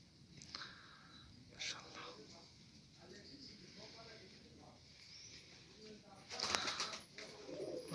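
Young Dutch tumbler pigeons coo softly in a loft, low throaty calls repeating over a steady background murmur with a few sharper rustles and flutters.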